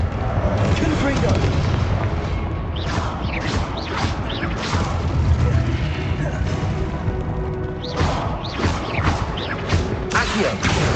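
Confringo spell explosions in the video game Hogwarts Legacy go off as a string of loud, sharp blasts in two clusters over constant rumbling combat noise, with in-game voices heard along with them.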